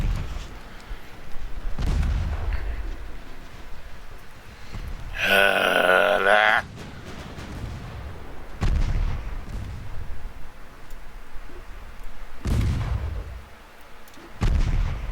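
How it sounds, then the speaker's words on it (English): Warship guns firing in the naval video game Ultimate Admiral Dreadnoughts, several deep booming shots spaced a few seconds apart, with one longer harsh burst in the middle, over a low rumbling battle background. "Shoot your secondaries at the Kronprinz."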